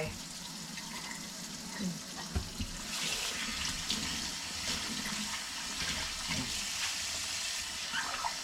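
A tap runs steadily as items are washed by hand at a sink, a continuous close water rush with a few small knocks and splashes.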